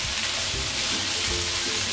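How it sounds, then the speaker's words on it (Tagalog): Onions and bird's eye chilies sauté in a pan after garlic, sizzling loudly and steadily up close, with a couple of soft stirring scrapes. "Ipagpatuloy lang ang pagigisa hanggang sa malanta na ang sibuyas gaya nito"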